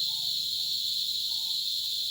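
A steady, high-pitched insect drone hums continuously at a moderate distance, like cicadas buzzing through an evening with no other sounds.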